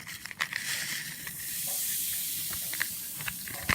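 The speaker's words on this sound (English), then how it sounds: "I'm going to dump it in the water and it's going to fizz." Crumbled bath product fizzing after being dropped into water, a steady soft hiss and crackle with occasional small pops, fairly close and quiet, with no talking.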